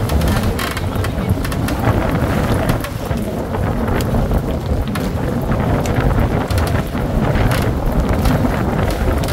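Strong wind blows outdoors, buffeting the microphone in a loud, steady roar that swells and eases slightly throughout, with no voices.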